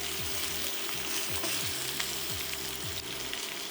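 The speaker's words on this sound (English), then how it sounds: "Once the oil is smoking hot, start laying the fish on top, being careful not to burn yourself." Tilapia fillets sear in smoking hot vegetable oil, a loud, close, steady sizzle with a faint repeating low hum running underneath.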